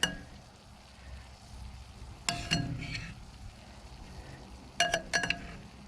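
Mushrooms and onions sizzle alongside beef steak tips on a grill, a steady low frying hiss broken by a few sharp metallic clinks and scrapes of a utensil near the middle and end.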